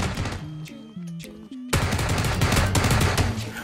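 Gunfire in the battle royale shooter PUBG, a loud sustained burst of rapid shots that erupts suddenly after a quieter musical passage and keeps going without pause.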